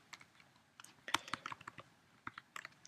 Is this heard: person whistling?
no